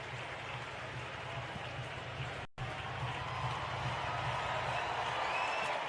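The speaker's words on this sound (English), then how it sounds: "Huge sellout crowd, and they've made a lot of noise." Roar of a huge sellout baseball stadium crowd at a Cubs versus Mariners game, a constant broad rumble of distant cheering and chatter filling the background without a break.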